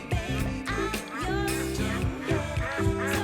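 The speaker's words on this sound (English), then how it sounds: "Mama Duck heard a faint quack, quack coming from behind a cluster of reeds" A cartoon duck quacks repeatedly in a playful rhythm over a bright nursery-rhyme music backing, moderately loud, with no talk.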